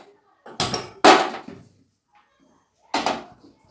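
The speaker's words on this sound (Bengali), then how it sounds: "হাঁড়িটা আমি বসিয়ে দিলাম।" A cooking pot is set on a kitchen stove while making chicken biryani: three sharp metallic clanks, two close together and one after a pause, each fading quickly into silence.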